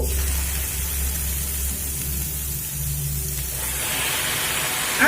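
Chopped carrots hitting hot ghee in a pan, a loud steady sizzling hiss that holds throughout and brightens toward the end, with no talking.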